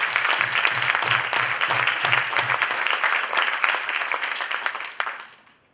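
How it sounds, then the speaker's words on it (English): Audience applause: a dense, sustained burst of clapping from a crowd, fairly close, that thins out and fades near the end. "Give him a round of applause."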